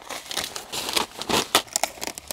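A knife cuts through the base of a craft decoration piece, producing a run of close, irregular crinkly scraping and snapping bursts with no talking.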